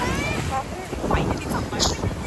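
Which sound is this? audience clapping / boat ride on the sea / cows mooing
boat ride on the sea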